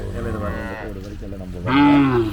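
Cattle at a native cattle market in Palayakottai give drawn-out moos close by. A steady low call is followed by a louder, rising bellow near the end, with busy market background underneath.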